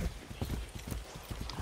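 A horse's hooves clip-clop in a Far Cry 6 game scene, a quiet, fairly even run of hoofbeats at a walking or trotting pace, faint and close-miked in game audio.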